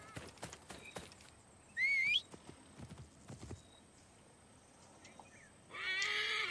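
Horse in Assassin's Creed Origins galloping with rapid clip-clop hoofbeats, broken by two loud whinnying neighs, one early and a longer one at the end, with no talk over them.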